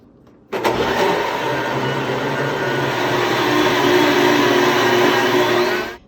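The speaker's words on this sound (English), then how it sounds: "then you pour it into a blender. And I use the smoothie button on mine" A blender motor switches on abruptly and runs as a loud, steady whirring roar for several seconds on the smoothie setting, pureeing liver.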